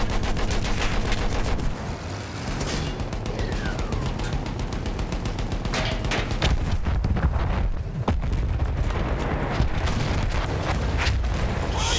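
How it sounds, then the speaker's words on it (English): Battlefield 1 combat audio packed with rapid gunfire and heavy booming blasts, a dense, loud, continuous barrage with several sharp explosive bursts throughout. "That was a hell of an explosion."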